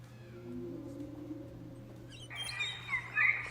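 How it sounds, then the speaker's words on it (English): A sped-up whale recording comes across as high chirps and tweets like birds, rising over a low steady hum in the second half and growing louder toward the end. "If I take a whale and we speed the whale up,"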